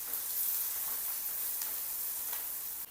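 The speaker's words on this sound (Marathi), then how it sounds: "कांदा लालसर होईपर्यंत परतवायचा" Chopped onion sautés in hot oil in a pan, giving a steady, close, bright sizzling hiss with no voices, easing slightly near the end.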